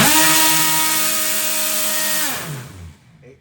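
An RC electric motor spins a small 5-inch propeller, giving a loud, steady high-pitched whine with strong tones that holds, then drops sharply in pitch as it spins down to near silence.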